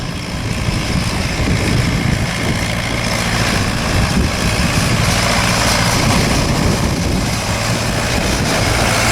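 A vintage Nuffield tractor pulling chain harrows across a field, a loud continuous rough engine drone with rattling, heard close and steady throughout, no speech.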